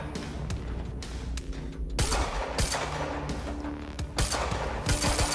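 Rapid gunfire in the video game Quantum Break comes in loud, dense bursts of sharp shots, with brief pauses between volleys.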